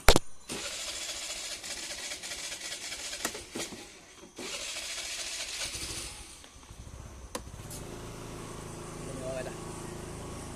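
A car engine cranks and catches, then idles roughly in the foreground while people talk nearby.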